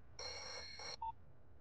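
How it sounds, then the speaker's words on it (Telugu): A telephone rings in a scene from a Telugu comedy film: one fairly quiet electronic ring burst of under a second, followed by a short single beep, then near silence. "ఫోన్ రింగ్ అవుతుందిరా."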